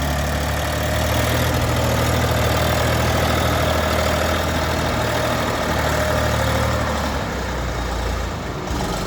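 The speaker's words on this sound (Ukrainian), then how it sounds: "Класний потужний тракторець." A small orange mini tractor engine idles steadily and loudly, a continuous low rumble with a rattling mechanical chug, no talking.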